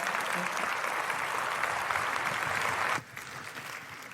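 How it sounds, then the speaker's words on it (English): Applause from an audience at a partner summit for the events industry, loud and continuous for three seconds before cutting off abruptly into quieter room sound. "Everyone, round of applause for Stacey Holliday."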